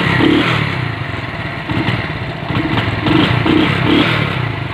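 A motorbike engine, started without an ignition key, runs loud and close, idling with a rough, uneven chug and occasional small rises in revs.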